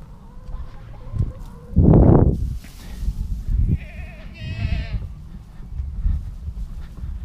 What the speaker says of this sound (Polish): Już beczą, że dobre.